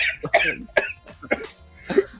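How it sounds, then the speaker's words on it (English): A person coughs hard while laughing, in several sharp, close, loud bursts spaced over about two seconds, with no words between them. "I hate that I cough when I laugh really hard"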